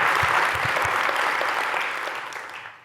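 Conference audience applauding after a talk on technology and biodiversity at Geo for Good '23, a broad steady wash of clapping that stays loud before thinning and fading out near the end.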